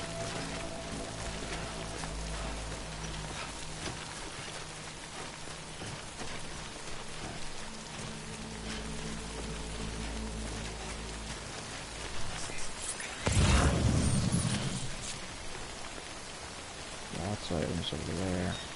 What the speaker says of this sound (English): Good thing it's raining.